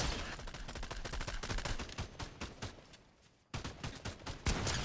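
Shotguns blast in rapid succession during a Fortnite match, a loud, dense barrage of shots that drops briefly near the end, then resumes with heavy booms.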